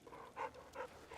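A dog in Fallout: New Vegas pants softly, with three or four short, breathy bursts in a steady rhythm, very quiet and close.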